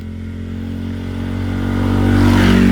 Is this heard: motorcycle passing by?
yes